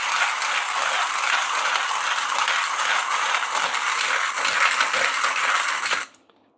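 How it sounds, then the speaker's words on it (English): A K6 manual hand grinder crunches coffee beans in one continuous, fairly loud grinding run that stops abruptly after about six seconds. "I would say K6 is pretty enjoyable in terms of grinding"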